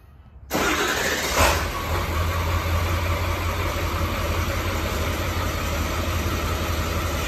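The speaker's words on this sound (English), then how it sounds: "we'll get a little before sound of Parker's truck with the stock exhaust" A 2002 diesel truck with a 7.3 engine and stock exhaust cranks and fires up with a brief roar, then settles into a steady, rumbling idle that continues throughout, close by with no talking.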